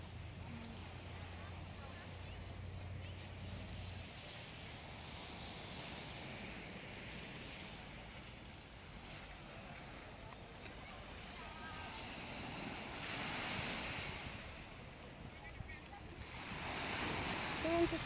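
Ocean waves roll onto the beach at Turtle Bay, Hawaii, as a steady wash of surf with wind buffeting the microphone, swelling louder toward the end.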